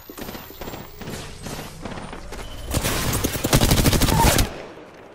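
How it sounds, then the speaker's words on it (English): Gunfire in Apex Legends: bursts of rapid shots, first spaced volleys and then a dense sustained automatic stream, loud and close, ending abruptly. "Enemy here. Shooting."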